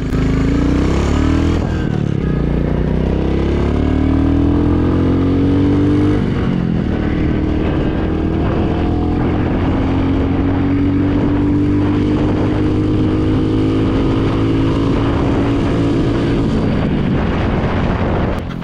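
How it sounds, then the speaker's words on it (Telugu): A 2025 Royal Enfield Goan Classic 350 motorcycle engine revs up and pulls away, its droning pitch rising as it accelerates, loud and close throughout. "ఇంజిన్ చాలా రిఫైన్డ్గా ఉంది. అండ్ గేర్ వేసాను, కొంచెం సౌండ్ అయితే చేసింది."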